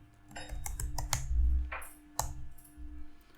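Keys clatter on a computer keyboard while Excel VBA code is written, a close burst of quick irregular clicks and taps with a short pause before a final keystroke, no voices.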